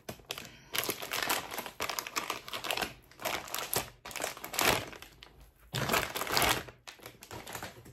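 A package of microfibre cleaning cloths being torn open, close crinkling and crackling of plastic wrap in uneven bursts with sharp snaps, no one speaking.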